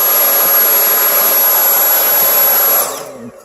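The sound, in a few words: Dyson V8 Absolute cordless vacuum cleaner running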